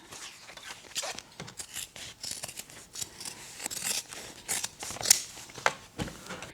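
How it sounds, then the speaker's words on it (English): Scissors snip through fabric seam allowance along a curved edge of a bag pocket, a close series of quiet, crisp cuts in an irregular rhythm. "now I need to cut away a little of the seam allowance, especially on the curved edge"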